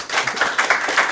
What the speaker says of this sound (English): can we get a round of applause for Dave?